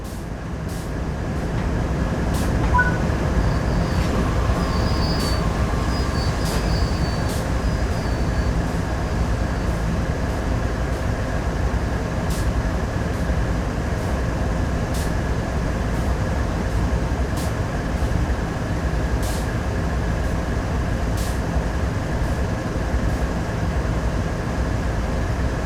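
Steady train rumble and running noise from Train Sim World 3 as the locomotive approaches to couple, with faint periodic clicks and a brief tone, continuous and fairly loud throughout with no talk.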